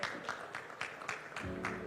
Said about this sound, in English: May I have one round of applause?